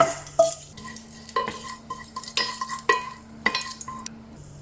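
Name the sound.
tempering pepper, cardamom, cinnamon and bay leaf in hot oil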